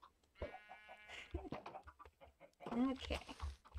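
Short clucks from a chicken in Minecraft, broken into brief bursts with a louder squawk toward the end, heard over background game sounds.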